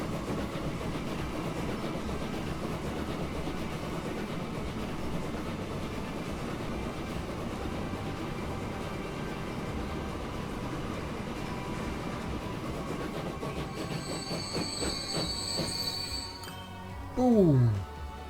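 A steam train running in Transport Fever, a steady, dense rumble of rolling wheels and machinery throughout, with a brief whistle-like tone and a sudden louder burst near the end.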